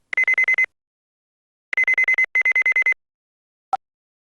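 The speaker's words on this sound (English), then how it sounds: "Looks like I have a phone call." A phone ringtone in the Ace Attorney video game plays as rapid trilling electronic bursts, one short group, a pause, then two longer groups, ending with a single blip.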